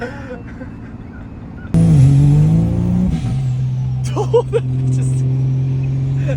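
A 1200-horsepower Cummins diesel truck roars as its turbo spools hard. The engine drone is loud and close and jumps abruptly in pitch, with a hissing, whistling rise, and shifting engine tones continue under the noise.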